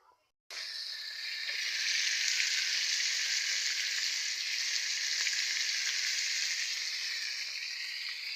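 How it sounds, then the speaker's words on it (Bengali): Pieces of katla fish, salted and coated in turmeric, frying in hot oil in a pan, a loud steady sizzle that starts suddenly and holds evenly throughout. "মাছ ভাজছি, মাছ ভাজা হয়ে গিয়েছে"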